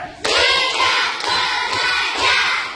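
A class of schoolchildren claps in unison, four or five sharp group claps ringing out loud and close in a primary school classroom, with a light scatter of voices and hand noise between them.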